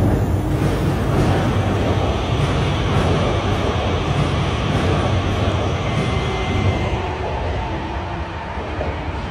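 A subway train rolls along the rails in Jianyang, a steady broad rushing rumble mixed with wind noise that holds for several seconds and eases slightly toward the end, with no speech.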